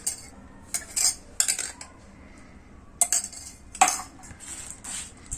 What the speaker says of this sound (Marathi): हे छान आपल्याला मिक्स करून घ्यायचं आहे